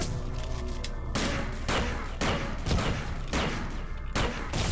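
Gunfire from the video game System Shock 2, a steady loud rattle of automatic shots broken into about four bursts, close and alone with no talking.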